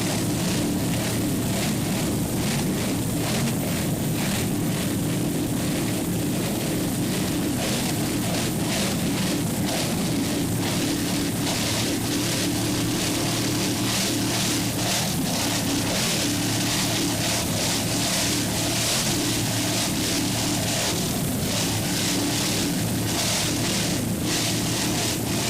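Offshore powerboats racing at Deerfield Beach, a constant dense roar of engines and rushing water filling the whole stretch, loud and unbroken with no speech.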